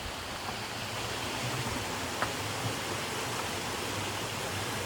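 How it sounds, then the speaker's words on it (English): A tiny runoff creek trickles into a larger creek outdoors, making a steady, soft rushing of water without distinct splashes, fairly faint and continuous throughout. "A little tiny mini creek running off into the main creek."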